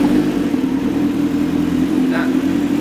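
A Kawasaki Z1000 motorcycle fitted with an SC exhaust holds a loud, close, steady low engine drone throughout, with no clear rise in revs.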